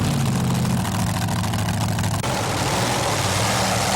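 A modified tractor pulling rig engine roars steadily and loudly at close range, with a brief change in tone about halfway through as it keeps running hard.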